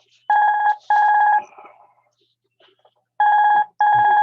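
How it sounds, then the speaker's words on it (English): Landline telephone rings out in two bursts of two electronic trills each, separated by a short pause, fairly close and clear with no talk over it. "Interruption there, telephone ringing."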